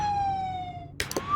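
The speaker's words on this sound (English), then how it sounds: "This is the whale siren, as you can see." A Roblox fire department vehicle's whale siren sounds in the game, a steady, gradually falling wail that cuts off, then a brief click and a rising tone start again.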